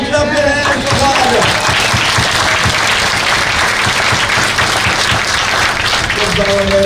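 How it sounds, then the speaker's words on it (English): Congregation clapping their hands at a grand opening ceremony's morning worship, loud sustained applause from a crowd with a faint tonal background and some voices mixed in. "Come on, clap your hands for God."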